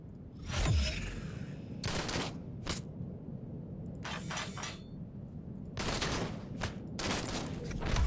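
Gunfire in the video game Heart of the Machine: repeated bursts of shots in separate volleys across the stretch, loud over a steady low game rumble with no talk.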